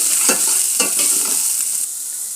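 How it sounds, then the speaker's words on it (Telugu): Crushed ginger-garlic paste sizzles in hot oil in a pan while being stirred for beetroot puris, with close frying hiss and a few scraping stirs, then a quieter steady sizzle. "ఈ అల్లం వెల్లుల్లిపాయ పచ్చివాసన పోయేదాకా వేపుకోవాలండి."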